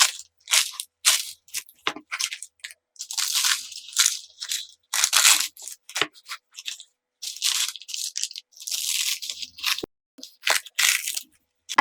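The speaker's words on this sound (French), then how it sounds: "Le filo est croustillant" Crisp, dry crunches of flaky baked filo pastry on a Greek feta cheese pie being cut or bitten, irregular sharp crackles in quick bursts separated by brief silences, close and fairly quiet with no speech.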